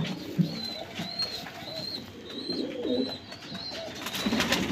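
Red-eyed flying pigeons of the Teddy cross give soft, repeated cooing calls mixed with higher chirps, close and steady throughout, over a low background murmur with no talking.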